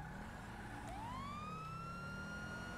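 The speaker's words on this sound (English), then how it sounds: "we pressed the third siren at the same time." A police siren in a video game wails upward and holds a rising tone over a low steady rumble of a vehicle engine, moderately loud with no talking.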